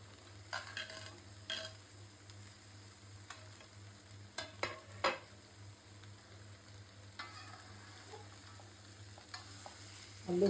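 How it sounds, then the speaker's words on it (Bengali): Vegetables frying and being stirred into a cooked spice paste for a vegetarian Bengali dish, with quiet low sizzling and scattered spoon scrapes and clinks against the pan across the whole stretch. "মশলাটা কষানো হয়ে গেছে, সব সবজি দিয়ে দিচ্ছি"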